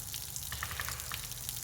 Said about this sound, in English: I figured I'd just open it up without any sort of tubing or hose, and it's a decent amount of water flow